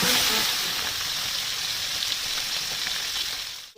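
Tilapia fish frying in hot oil, a loud continuous sizzle and crackle that holds steady and close, fading out at the very end.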